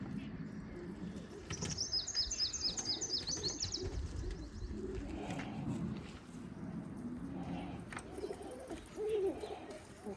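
Pigeons on a rooftop give soft low coos and a brief burst of high chirping, fairly faint against steady outdoor background noise.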